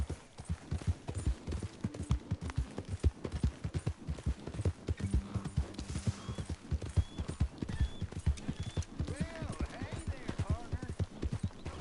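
Horse hooves clip-clopping in Red Dead Redemption gameplay, a steady rhythmic trot of sharp thuds at moderate distance, with brief game voices and a faint whinny mixed in.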